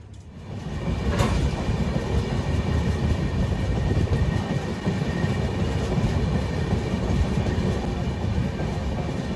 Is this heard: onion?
no